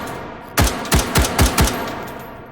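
Five sharp rifle shots from an AR-style gun in the virtual-reality shooting game H3VR, fired in quick succession with a short gap after the first, each a loud close crack with a brief echo.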